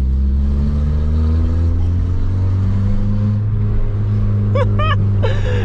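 A Mk4 Volkswagen Bora wagon with its muffler deleted drones loudly inside the cabin, its pitch slowly rising as it revs, with a few sharp pops and crackles near the end.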